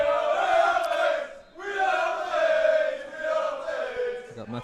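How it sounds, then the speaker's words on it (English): At a youth football match between Sheffield United Community College and Alhendin CF, the crowd keeps up a loud sustained chant in two long surging waves, with a short dip between them. "The crowd giving us a bit of a support here"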